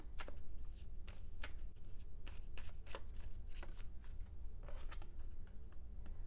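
Tarot cards shuffled by hand, a steady run of crisp riffling flicks and soft slides repeating for several seconds, close and fairly quiet with no talk.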